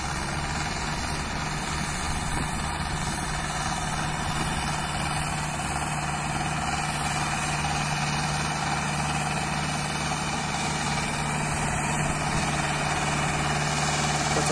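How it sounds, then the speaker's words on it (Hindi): A Sonalika Tiger 60 tractor engine runs with an open harrow in a field, a loud, steady diesel drone with a constant low throb and vibration throughout, no talk over it. "चला के देख रहे हैं ट्रैक्टर को"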